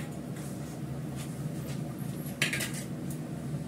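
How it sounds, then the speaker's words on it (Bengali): Small fish being cut and cleaned in a home kitchen, soft scraping and knife contacts against a plate or board with a sharper metallic clink midway, low background hum beneath. "মাছটা কেটে নিই আমি,"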